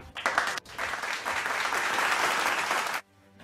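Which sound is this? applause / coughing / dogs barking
applause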